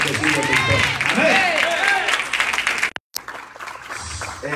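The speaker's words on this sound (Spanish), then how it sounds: "Aplaudan de fuerte" A church congregation claps loudly at an evening service, a dense sustained roar of hands mixed with voices, then a sudden brief cutout before quieter crowd noise resumes.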